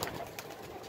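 A brief, soft pigeon coo close by, quiet and lasting under a second.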